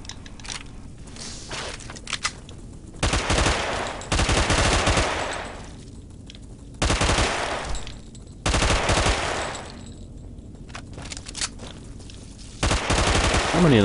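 Automatic gunfire in Fallout New Vegas, played with mods, comes in several loud, sustained bursts with short pauses between them, and the bursts sit over a steady game background.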